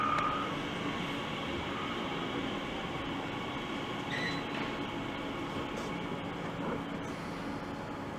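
Class 315 trains pull away from Romford station in a steady, moderately distant rail rumble with wheel hiss and a faint brief squeal.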